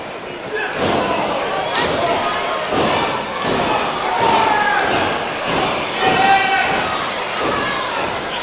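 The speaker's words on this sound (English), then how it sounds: "Trading blows back and forth here are Smooth and Carr." Professional wrestlers trade blows and slam each other in the ring during a PWE world title match, giving repeated loud thuds and impacts at an irregular pace over steady crowd noise and commentary.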